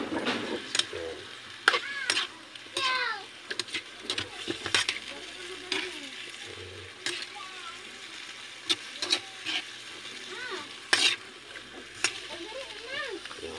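Chicken necks being stirred in a cooking pan, scraping and clattering intermittently over a low sizzle, with a voice talking now and then.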